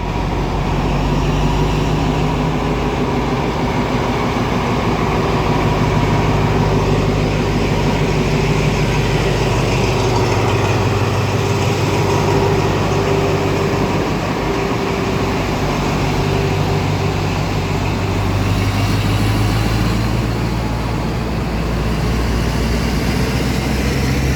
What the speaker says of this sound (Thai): มาดูขบวนรถออกกันนะครับทุกคน